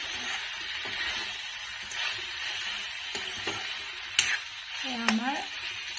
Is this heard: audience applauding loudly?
no